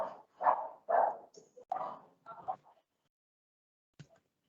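Several dogs barking indoors, a quick run of sharp, fairly close barks followed by a lone yip after a pause.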